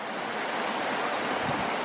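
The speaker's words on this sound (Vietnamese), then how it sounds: "phía dưới có thác đẹp lắm" A waterfall on a forest stream pours in a steady, loud, close rush of water that stays even throughout, with no voices.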